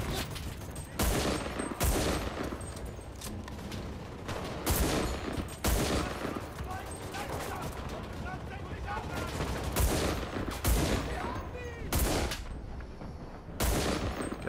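Rapid gunfire fills a D-Day defence battle in the video game Enlisted, with loud sharp bursts and single shots cracking every second or so over continuous machine-gun rattle and distant battle noise.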